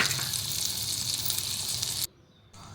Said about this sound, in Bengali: এরপর আমি ওই ফ্রাই প্যানের মধ্যে দিয়ে দিলাম 1 চামচ বাটার।